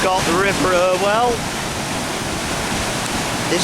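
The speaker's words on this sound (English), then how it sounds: "Here we've got the River Irwell." The flooded River Irwell rushes loudly through Bacup town centre, a dense, steady roar of fast water, close and continuous; a voice speaks briefly over it at the start.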